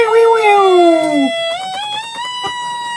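A wailing electronic siren tone from an Elenco 50-in-1 electronics kit, like an American fire truck, glides downward, then rises and holds a steady pitch, with a few sharp clicks along the way.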